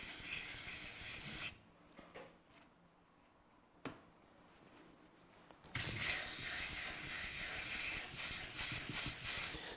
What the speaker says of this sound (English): let that steam do its job